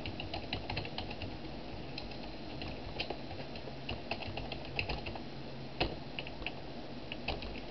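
Keys tapped on a computer keyboard in steady, uneven bursts of clicks, close and moderately quiet, with a couple of sharper presses standing out near the end and no talking.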